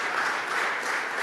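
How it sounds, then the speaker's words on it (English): An audience at a political event gives a round of applause, steady dense clapping filling the whole moment without pause. "can you just give a big round of applause to Mark Galley"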